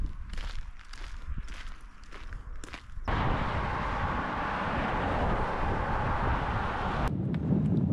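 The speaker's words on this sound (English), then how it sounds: "Super Arctic cold wind." Cold Arctic wind on the Lofoten mountains, first with muffled crunching steps and gusts, then a steady loud roar of wind buffeting the microphone for several seconds, with no talking.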